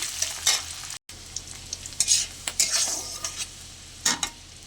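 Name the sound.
frying onion and green chili in oil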